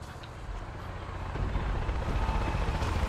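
A helicopter's rotor chops and whirs in the video game Far Cry 5, growing steadily louder as it approaches, with engine rumble underneath.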